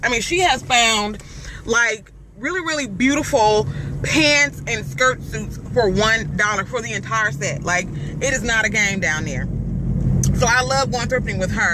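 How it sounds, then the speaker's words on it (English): Road noise inside a small car with low-profile tires, a constant low rumble and tire hum running beneath someone talking throughout. "the road noise is still crazy because I do have a small car and I have low profile tires"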